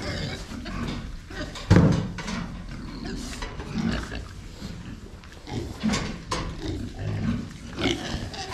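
Pigs in a farm pig barn grunting and squealing at close range, with a sharp loud squeal near the start and scattered snorts while a person talks quietly.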